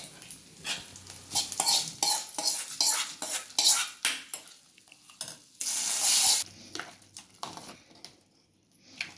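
A spoon stirs thick ven pongal in a pot, with close scraping and clattering against the metal in uneven bursts and a brief hissing rush midway.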